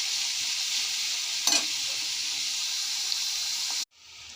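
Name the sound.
frying onions stirred in a kadai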